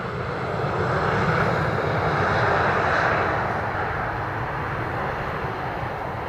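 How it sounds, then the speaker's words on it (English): An airliner landing or taking off on the Polderbaan runway at Amsterdam Schiphol gives a steady, broad jet roar that swells slightly midway and holds continuously throughout. "have you seen all of these landings or takeoffs live from this runway or not?"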